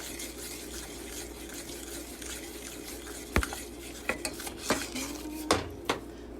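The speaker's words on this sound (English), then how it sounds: "I added more sugar, I gotta stir." A sugar and pineapple juice mixture is stirred in a bowl, a utensil scraping and clinking against the sides with several sharp taps, close and alone over a low room hum.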